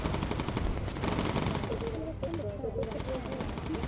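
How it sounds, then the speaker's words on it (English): Rapid, continuous turret machine-gun fire from a bomber in the video game Bomber Crew rattles loudly throughout, with a voice talking underneath the gunfire. "Kylo, incendiary, focus fire for me, please, Kylo."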